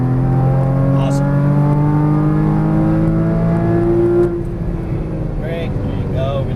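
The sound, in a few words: Porsche Cayman GTS engine while driving on track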